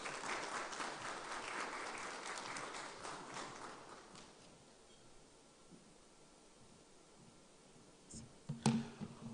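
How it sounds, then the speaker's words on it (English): Conference audience applauding, dense clapping for about four seconds that fades into quiet room tone, followed by a few brief handling knocks near the end. "another round of applause for Dr. Ken and Dr. Durban"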